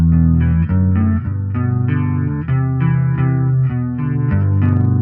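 Electric guitar played through a Fender Champion 20 amp with a grunge-style chorus tone, a steady run of wavering, shimmering picked notes and chords, loud and up close with no talking.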